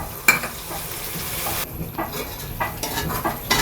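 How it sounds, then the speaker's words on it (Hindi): Masala with turmeric and ginger-garlic paste fries in a large pot for haleem, giving a constant close sizzle broken by stirring scrapes and occasional metal knocks of a spoon on the pot. "मसाला अच्छे से भून चुका है।"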